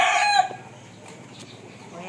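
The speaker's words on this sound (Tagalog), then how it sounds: "may manok pa tayo sa labas" A rooster crows outdoors on a Filipino backyard farm, one loud cock-a-doodle-doo filling the first half-second before dropping away, followed by quiet background ambience with faint distant sounds.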